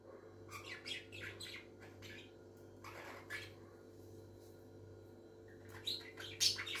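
A peacock gives several loud squawking calls in scattered bursts, heard at a moderate distance over a steady low background hum.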